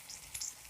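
Potatoes and tomatoes sautéing in a pan for a stuffed tomato dish, a soft steady sizzle with brief brighter crackles, close and quiet with no talking.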